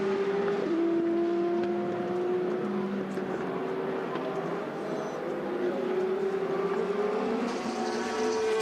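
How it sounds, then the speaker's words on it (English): A race car passes at the 2014 24 Hours of Le Mans, a steady engine whine that drifts slowly in pitch over several seconds, fairly loud and continuous against the busy trackside background. "Car just going past."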